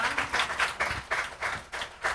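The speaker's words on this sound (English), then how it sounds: "let's give a huge round of applause" A small group at a Buddhist group practice session claps in brief rhythmic bursts, about eight distinct pulses of applause over two seconds, close and moderately loud.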